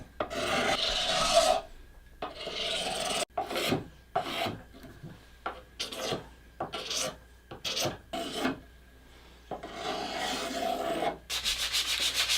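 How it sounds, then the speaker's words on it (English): A wooden axe handle is sanded by hand with 80 grit sandpaper, giving close, rasping strokes in an uneven rhythm separated by short pauses, with no talking. "Serge is finishing it up with some 80 grit sandpaper"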